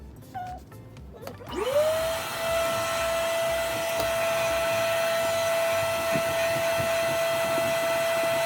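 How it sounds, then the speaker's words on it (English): A wet and dry vacuum switches on and extracts a carpet stain. After a brief quiet start it rises to a loud, steady whirring roar with a sustained whine that holds to the end. "extract using your wet and dry vacuum"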